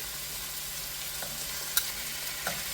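Chicken pieces browning in a pan make a steady, soft frying hiss throughout, with a few faint clicks, and no one speaks.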